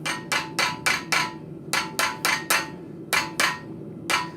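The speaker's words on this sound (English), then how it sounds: "these are really light taps I'm doing" Light hammer taps on hot steel while forging an arrowhead socket at a blacksmith's anvil ring out in quick clusters of three to five bright strikes, separated by short pauses, close and clear.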